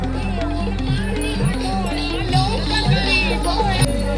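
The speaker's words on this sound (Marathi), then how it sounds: "खूप गर्दी आहे." Many people crowd a riverbank at a Ganpati immersion procession in Konkan; steady crowd murmur sits under rhythmic music and drum hits, with voices chattering close by.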